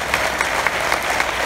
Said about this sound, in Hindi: ताली बजानी हो तो अच्छे से बजाइए।